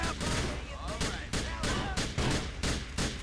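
Gunshots in GTA The Lost and Damned, a rapid series of loud, sharp reports at an irregular but quick rhythm, with a faint voice underneath.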